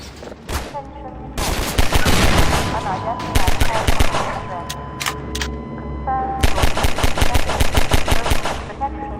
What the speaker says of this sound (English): The gun will fire as fast as the player can click their input button